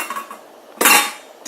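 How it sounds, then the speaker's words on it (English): A metal lid set onto a pot of simmering red beans and smoked sausage: a quiet moment, then one sharp clanking clink of the lid landing, followed by a faint second tap. "so now I'm going to go ahead on and put my top on it"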